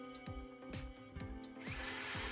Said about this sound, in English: Hold the drill tight and squeeze the trigger. The motor spins again